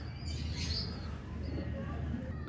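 Pigeons in a breeding loft, soft low cooing mixed with a few faint chirps over a close murmuring background, with a brief louder rustle at the very end.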